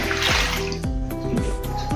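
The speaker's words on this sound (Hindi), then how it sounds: "और फिर इसमें पानी डालेंगे।" Water splashes and trickles steadily for about two seconds, close by, with faint gurgling as it fills a bowl of urad dal.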